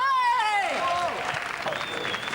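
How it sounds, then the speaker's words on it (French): Studio audience applauding loudly for a winning team on a French comedy television show, a dense wash of clapping that rises as a host's voice and a sliding musical tone fade over it. "On applaudit très fort les Robins des Bois qui ont gagné cette Fuego ce soir"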